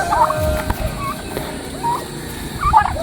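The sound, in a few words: turkeys gobbling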